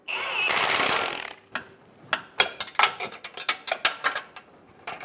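A ratchet snugs down a front lower control arm bolt on a 2008-2017 Buick Enclave: a brief burst of mechanical noise, then a run of quick, sharp clicking strokes, close up and alone.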